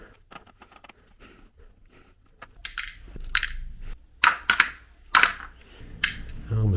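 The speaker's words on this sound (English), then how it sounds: "Just have to pop up 3 screws, undo some clips." Clips and screws are worked loose on a Dell Studio laptop, giving quiet small clicks at first and then several loud, sharp plastic snaps and cracks as the case comes apart.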